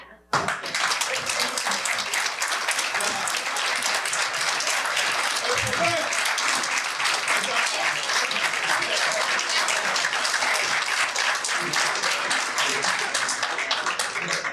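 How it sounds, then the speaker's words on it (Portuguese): Sustained audience applause fills a hall during a ceremony signing a provisional measure on confiscating traffickers' assets, dense steady clapping from a large crowd lasting throughout, with faint voices mixed in. "mas palmas merecidas"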